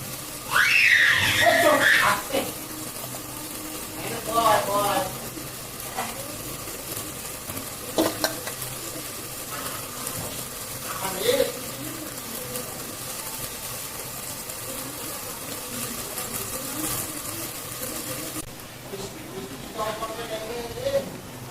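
Taro pieces fry and sizzle in spice paste alongside hilsa fish, a steady hiss with stirring and scraping running throughout, under a voice talking over it.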